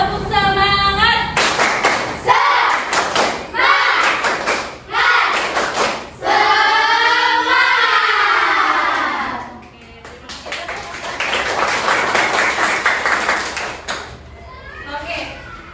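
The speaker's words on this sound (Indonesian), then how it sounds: "gimana kalau kita tepuk semangat?" A classroom of students performs a rhythmic clapping chant, with bursts of synchronized hand claps alternating with shouted, sung call-and-response lines led by a teacher, loud and lively.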